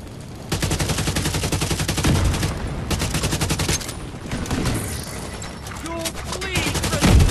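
Dense, continuous automatic gunfire from The Division 2 video game, rapid bursts running almost the entire stretch with loud crackling shots, brief lulls, and a voice talking over the action.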